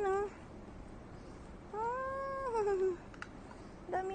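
Several cats meowing in a park, one clear drawn-out meow in the middle with shorter calls at the start and end, close by over a low background hum.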